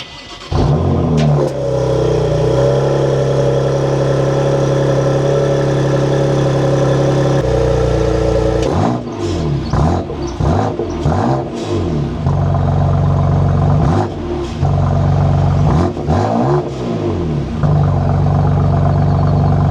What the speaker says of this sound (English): Let's test it together, starting with a cold start.